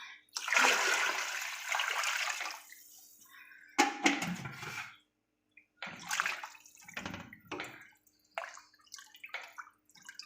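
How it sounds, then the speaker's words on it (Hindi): Water is poured into a pot of cooking hot and sour chicken soup in several bursts of splashing and gurgling, separated by brief pauses, close and clear. "अब मैं इसमें पानी डालूंगी।"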